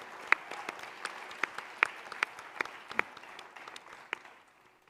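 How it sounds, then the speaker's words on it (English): Sparse, fading applause from a ballet audience at a Bharatanatyam arangetram dance recital, individual claps standing out in an uneven patter that thins toward the end. "please, one more round of applause for Srimati Tatiana Popova"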